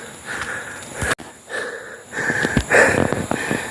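Heavy, wheezing breaths after climbing a steep hillside path, close to the ear, with uneven ragged inhales and exhales that grow louder toward the end, and no talk.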